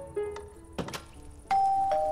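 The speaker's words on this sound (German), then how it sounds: "Und die hat sogar eine Klingel." A doorbell in Minecraft rings with a couple of clear electronic chime tones at close range, mixed with short clicks and thuds of in-game movement.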